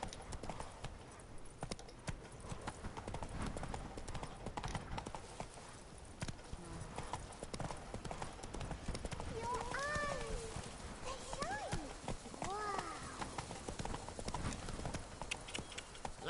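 Roach the horse gallops in The Witcher 3 with a fast, continuous clip-clop of hooves across the whole stretch, layered over game ambience and background chatter, with a few short voiced calls midway.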